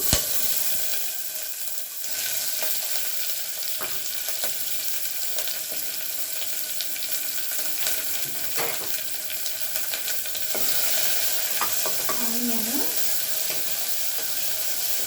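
Onion sizzling and frying in a pan with bay leaf and cloves for tomato rice, a steady close hiss running throughout with occasional stirring clinks and scrapes.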